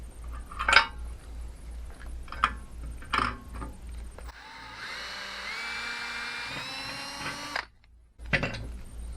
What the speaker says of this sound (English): Let's go back and drill that one